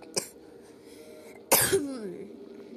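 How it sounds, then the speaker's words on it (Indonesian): A person coughs while playing the horror game Evil Officer, a short sharp cough followed later by a louder harsh cough that trails into a raspy vocal tail, close to the microphone against a quiet background. "Gue batuk guys."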